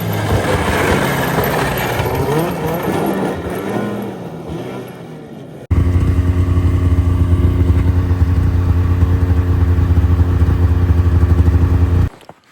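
A race motorcycle laps a track with a rough, rising and falling engine note, then cuts to a close, loud, steady engine drone that stops abruptly.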